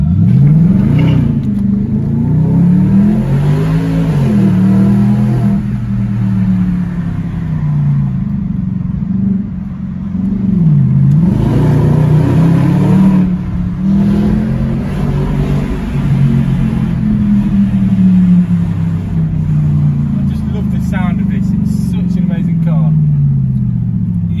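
A BMW 645ci, in neutral with the window down, revs its engine repeatedly. The loud pitch climbs and falls in several sweeps, then holds a rising drone near the end.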